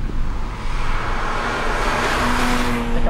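Porsche Cayman S driven hard, its engine noise loud and steady from close by, with a rising tonal note toward the end and the rush of road and tires underneath.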